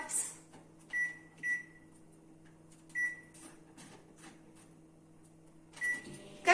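A microwave oven set to 600 watts hums steadily with a low, constant drone, while a few short electronic beeps and light clicks sound over it.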